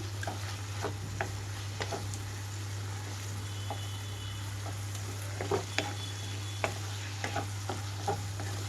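Brinjal pieces roasting in a little oil for a Kerala-style roast, with a low, even sizzle running throughout and scattered soft pops and light stirring clicks, close and steady with no voices.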